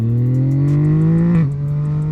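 A Yamaha MT-09 SP motorcycle revs up under acceleration, its engine tone rising loud and close. The note drops sharply at a gear change, then settles into a steady drone.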